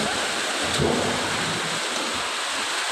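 A loud, continuous roar of wind fills the whole stretch, broadband and steady, with a slight swell near the start.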